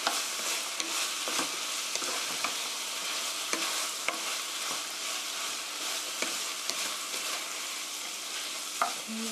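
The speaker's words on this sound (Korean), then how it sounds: "아까 썰어놓은 피망, 그린테일 페퍼, 양송이 넣어주세요. 볶아주세요." Sliced bell pepper, green chili pepper and button mushrooms stir-fried in a pan, with a steady bright sizzle broken by repeated scraping and clacking of a utensil stirring the vegetables, close and continuous without speech.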